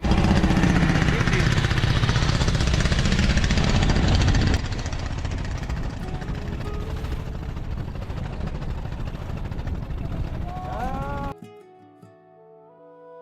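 Trawler boat engine chugging steadily on Tanguar Haor wetland, loud and close for most of the stretch, then cutting out near the end and leaving quieter tones behind.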